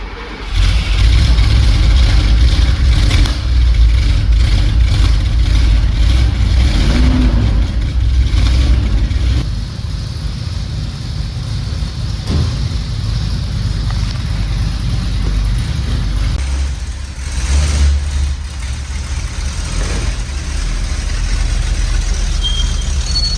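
A Mercedes-Benz 450SLC engine starts, idles with a steady low rumble, then revs up and settles back several times, loud and close, with no talk over it.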